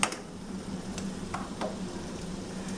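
Salisbury steak simmering in a pan over lowered heat, a steady soft sizzle close by with a few faint clinks and stirring scrapes, no voices.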